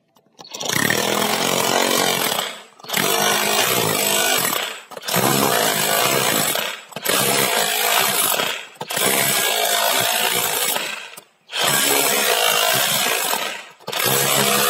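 A power chisel fitted with a meat-tenderiser-style bush-hammer bit chipping away at a plaster or concrete wall or floor, a loud harsh rattling roar in six long bursts separated by brief pauses.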